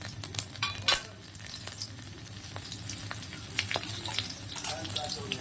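Green chillies and nigella seeds sizzle in hot oil in a pan, a steady crackling fry with occasional stirring clinks, close and moderately loud.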